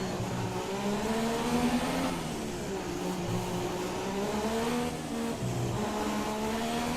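A Formula 1 car engine in the F1 2017 racing game drones loud and steady with a gear lost, its pitch rising and falling through the run as it revs and shifts, with no talk over it.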